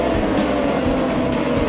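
A pack of racing motorcycles accelerates down the Park Straight at Cadwell Park during a race, making a loud, dense, unbroken engine roar with layered overlapping motors and no one talking.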